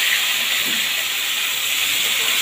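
Chopped onions hit hot spiced oil in a pan for a Bengali curd boal fish dish, producing a steady, dense, loud hiss that runs unbroken throughout.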